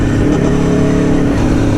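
An Aprilia Tuono V4 1100 Factory motorcycle engine revs hard and steadily up close with its quickshifter and blipper, a loud, continuous, throaty drone holding strong throughout.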